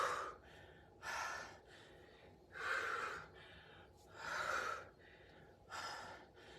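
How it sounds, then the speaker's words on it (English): Heavy breathing after a high-intensity interval workout, with five loud, breathy gasps and exhales spaced about a second and a half apart, close to the mic and with no talking. "Exhale that breath out. Sitting back, catching your breath."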